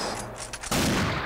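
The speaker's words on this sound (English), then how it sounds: "Synchronized shooting." Synchronized gunfire in the Unreal video game: a brief run of sharp shots, then a loud overlapping burst of simultaneous firing that rings out to the end.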